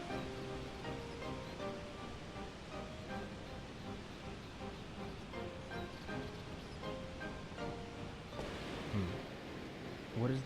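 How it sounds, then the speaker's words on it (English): A waterfall in the game Shenmue 2 gives a steady, broad rushing of water throughout, blended with soft in-game music tones. "It sounds like a waterfall."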